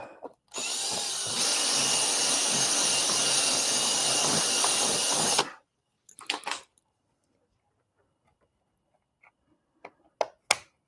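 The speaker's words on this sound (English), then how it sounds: "Let's see if I can ream it a little." A power drill bit reaming a hole in a cracked Yamaha R1 motorcycle fairing in a garage: one loud, steady whine lasting about five seconds, then it stops, followed by a few clicks and knocks.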